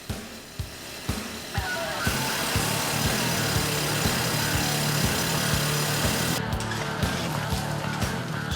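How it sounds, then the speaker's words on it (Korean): A rock drill bores holes in stone in an underground white jade mine 420 m deep, with a few knocks and then a loud, continuous, grinding roar that fills the space. "오후 일정은 바위에 구멍을 뚫어주는 천공 작업."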